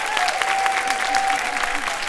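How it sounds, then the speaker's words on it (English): Warm audience applause for a contestant coming onto the stage at a game show, steady and dense throughout, with a faint sustained tone underneath. "Thank you for that nice warm applause, and keep it coming"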